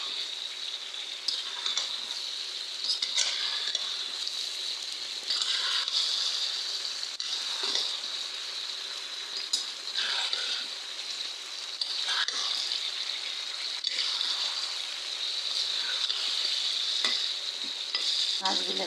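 Rohu fish pieces frying in a hot pan, a steady bright sizzle throughout with intermittent louder crackles and spatters as pieces go in, no voices.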